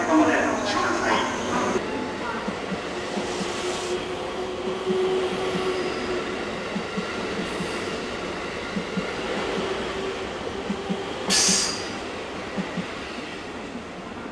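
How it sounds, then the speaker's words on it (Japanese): An out-of-service train pulls away from a platform at Shin-Osaka station, with a steady rumble of wheels and rail noise and a brief brighter squeal or hiss near the end, while station announcements play in the background. "12番乗り場から回送列車が発車いたします。"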